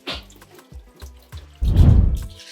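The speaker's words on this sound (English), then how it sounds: "So I'm just going to rinse it." Onions rinsed under a running kitchen tap, with scattered drips and splashes giving way to a louder rush of water hitting the sink and vegetables, close and without speech.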